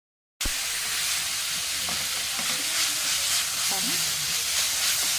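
Onions frying in a pan, with a steady, even sizzle and hiss that starts abruptly and holds at a moderate level, joined by a few light clinks and scrapes from stirring; no talk.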